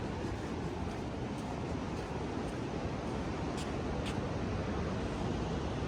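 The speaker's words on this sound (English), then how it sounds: "You can hear the ocean like there's running water." Ocean surf at a beach on the Oregon coast, a steady broadband rush of breaking waves, continuous and moderately loud with no talking.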